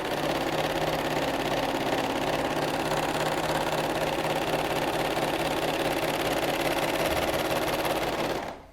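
A PFAFF Hobbylock 2.5 overlock sewing machine runs in a steady, loud, continuous mechanical whir for several seconds, then stops abruptly.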